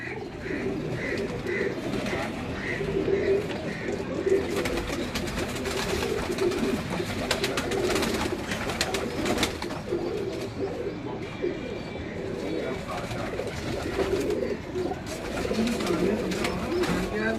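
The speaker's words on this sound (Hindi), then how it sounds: "ये सबस नीले कबूतर जो जिनको कुछ लोग नीले कहते हैं, कुछ सबस कहते हैं।" Blue pigeons coo in soft, repeated low calls on a rooftop over a steady murmur of background noise, with faint chirps mixed in.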